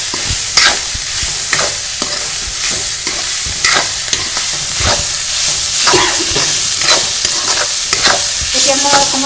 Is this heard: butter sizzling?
yes